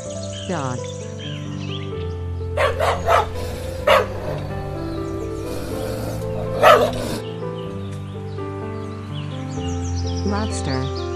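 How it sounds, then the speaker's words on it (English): A toy dog's recorded barks sound as a few short, separate yaps over a steady tonal music bed. "Dog."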